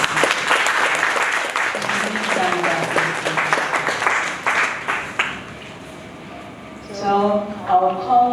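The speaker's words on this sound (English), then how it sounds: "So please, can we give a round of applause?" A seminar audience at a midwives' event applauds in a dense burst for about five seconds, then the clapping dies away and tonal voices or music come in at the end.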